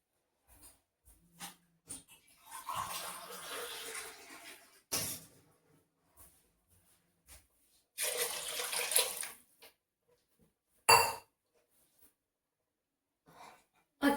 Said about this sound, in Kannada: ನಾನು ಅದೇ ಜಾರಲ್ಲಿ ನೀರು ಹಾಕ್ಕೊಂಡು ಈ ಥರ ಚೆನ್ನಾಗಿ ಮಸಾಲ ಎಲ್ಲ ಕಲಿಸ್ಕೊಂಡು ನೀರನ್ನು ಪಲಾವ್ಗೆ ಹಾಕ್ತಾ ಇದ್ದೀನಿ